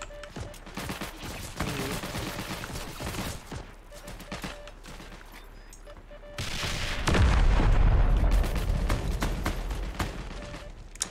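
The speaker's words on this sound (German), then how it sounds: "Jetzt holst du die Panzerfaust raus" A Panzerfaust is fired in the WW2 shooter Heroes & Generals amid a constant din of distant battlefield gunfire, ending in a heavy, deep boom that rumbles on for several seconds.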